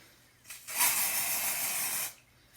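Hair spray hisses from a styling product in a salon-style hair tutorial, one steady spray of about a second and a half, close and fairly loud, with no talking.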